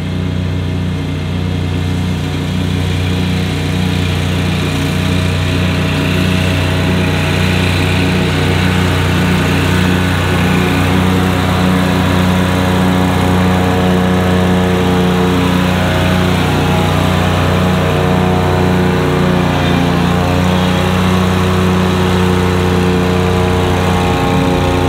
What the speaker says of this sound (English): as you can see behind me, the mower is going faster and faster